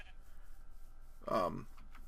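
A sheep in the Minecraft video game gives a single short, wavering bleat partway through, over a quiet low background with no other sounds.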